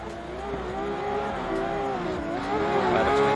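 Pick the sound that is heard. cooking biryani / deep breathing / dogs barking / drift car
drift car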